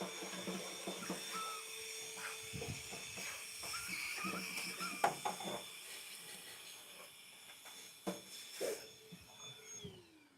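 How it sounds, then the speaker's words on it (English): A vacuum cleaner runs with a steady whine and hiss, suction sputtering and rattling as it cleans around a treadmill motor nearby. "So we're going to completely vacuum and clean out the area around the motor just for good measure"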